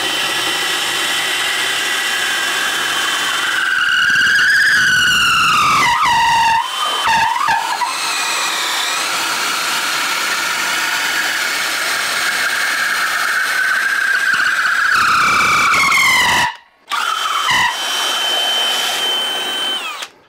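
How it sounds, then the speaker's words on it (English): A DeWalt DCD996 drill in speed 2 bores through wood with an 18-inch bit, a loud close whine that rises and falls under load, cutting out briefly near the end and then spinning up again. "we are now actually going to be doing the 18-inch bit on the DCD 996"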